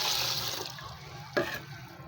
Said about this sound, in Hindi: ये भी डाल रहे हैं पानी इसमें